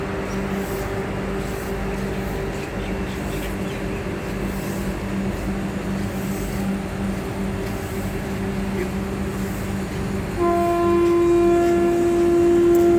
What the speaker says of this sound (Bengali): আপনারা দেখতে পাচ্ছেন বন্দে ভারতের দরজা বন্ধ হয়ে গেল ট্রেনটি এবার ছাড়বে